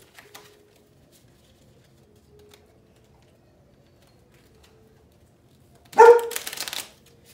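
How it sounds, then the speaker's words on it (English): A deck of playing cards being shuffled during a magic trick, one short crisp riffle burst after a long quiet stretch with faint background hum. "Shuffling the cards."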